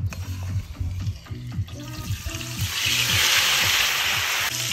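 Chicken legs frying in a kazan, a steady close sizzle rising louder and denser after a few seconds, with a low voice talking underneath at the start.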